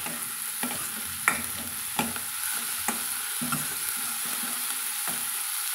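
Tomatoes sautéing in a pan for idli kurma, with a steady sizzle and periodic spoon strokes stirring through them, close and moderately loud.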